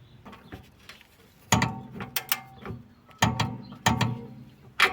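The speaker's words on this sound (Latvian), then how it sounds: "Ir jāpievelk tās apakšējās amortizātora skrūves uz 40 Nm plus 90 grādi." A ratchet tightens the lower shock absorber bolts on a car during a rear shock replacement. It gives quick clicking runs of pawl clicks with sharp louder clicks in between, close and fairly quiet.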